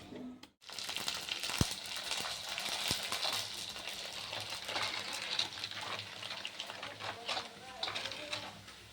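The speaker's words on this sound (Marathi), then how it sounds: "तर मी अजून दुसरी तळून घेते." Wheat-sorghum bibdi fry in oil in a small kadhai, giving a continuous close hiss and crackle that starts after a short gap, with someone talking over it.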